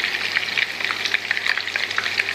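Half a kilo of lamb leg meat frying in a pan, a steady close sizzle with crackling bursts throughout, no voices.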